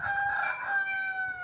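Chickens crowing and singing loudly and close, a continuous drawn-out rooster-like call with steady tonal held notes running through the whole stretch, no talk over it.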